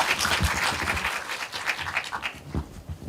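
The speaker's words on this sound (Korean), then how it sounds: "박수로 환영 부탁드립니다." An audience at a film festival talk applauds to welcome guests onto the stage, with steady dense clapping filling the room and fading slightly toward the end.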